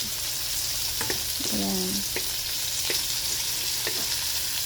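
Ginger pieces fry in a generous amount of hot oil, giving a loud, continuous sizzle with light stirring clicks, and a voice briefly speaks over it.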